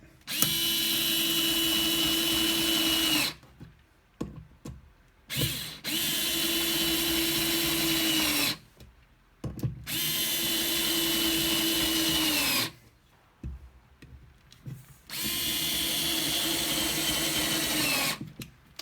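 Two Parkside cordless screwdrivers, a PAS 4 B2 and a 3.6V model, driving PH2 screws in four loud whirring bursts of about three seconds each, separated by short pauses with faint clicks.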